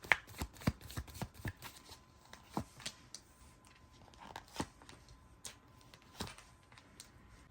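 Tarot cards are shuffled by hand, producing quiet, irregular flicks and soft riffling snaps in a loose rhythm, close up and alone in a hushed room.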